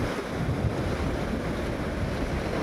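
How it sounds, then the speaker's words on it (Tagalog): Ocean surf washing onto a sandy shore at low tide ahead of a typhoon in Central Visayas, heard as a steady, broadband roar mixed with wind buffeting the microphone, with no talking. "yung hampas ng alon."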